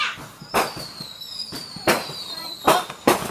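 Fourth of July fireworks explode in a series of four or five sharp, booming bursts at irregular intervals, moderately near, over a steady high whistle and background crowd noise.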